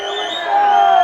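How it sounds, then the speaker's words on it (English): A football crowd at a Millwall under-21 development league match howls and roars as the final whistle nears, a loud, sustained wall of voices rising slightly toward the end. "Crowd howling for the final whistle."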